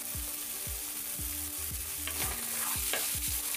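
Egg, meat and chopped snake gourd sizzle in a pan, a continuous close frying hiss with occasional stirring, set against a steady beat of background music.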